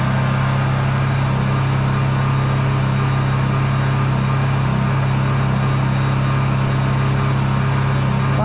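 Honda generator engine running at higher revs after acceleration, a steady, loud, even hum with a strong low drone and no break for the whole stretch.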